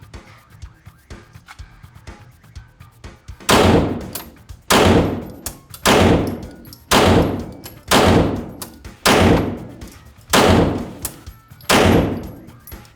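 Nine sharp, loud gunshots fired one at a time at targets on a shooting range, spaced roughly a second apart, each cracking and then ringing out in a short echoing decay, with a quiet gap before the first.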